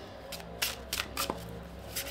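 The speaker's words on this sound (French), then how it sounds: "J'aimerais juste poser une carte en plus et demander" Symbolon cards being handled and laid on a table make a few faint, soft, brief taps and slides against a quiet background.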